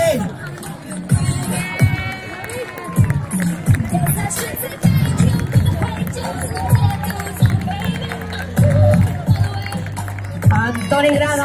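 Spectators clap and cheer for the leading runners of a sprint race, scattered applause mixed with crowd chatter and close voices talking over it.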